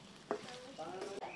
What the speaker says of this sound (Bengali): মাংসটা আস্তে আস্তে ভাজা হচ্ছে